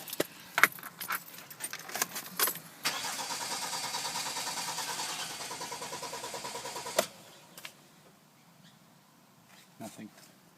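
Keys jangle, then a 2011 Kia Sportage with an intermittent no-start fault cranks with a steady, rhythmic churning for about four seconds without catching, followed by clicks and quiet voices talking.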